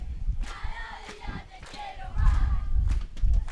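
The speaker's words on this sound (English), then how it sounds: "Argentina cheering on their team" Argentina supporters in the stands at a Masters' 45+ soccer match shout and cheer in loud bursts, a rowdy crowd roar with thumps, rising toward the end.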